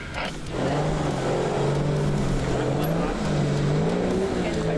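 Off-road vehicle climbing a steep hill track at Sunny Corner near Hill End, its engine droning steadily with shifting pitch while people cheer and call out over it.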